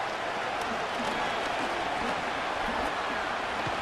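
A simulated stadium crowd in a Madden NFL football game roars steadily on a big third down, a dense continuous wall of cheering and applause at even loudness throughout.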